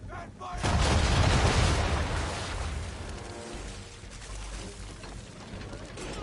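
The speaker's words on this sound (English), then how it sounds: "Bring around broadside, and when all guns are on target, call fire. Round shot for a start." A broadside of round shot from a sailing warship's cannons in Assassin's Creed III, a loud booming volley that swells quickly and then rolls on as a long, rumbling roar, with battle noise carrying on beneath it.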